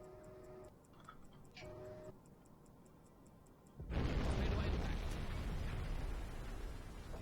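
Torpedo explosions tear into a steam freighter in the Silent Hunter 5 submarine game: after quiet ticking, a heavy, loud rumbling blast erupts and rolls on continuously as the ship breaks up.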